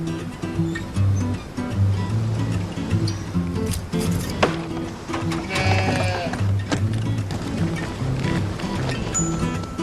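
Sheep bleat from a flock outdoors, several overlapping calls at moderate distance, set against a steady rustling, watery background with some muffled voices.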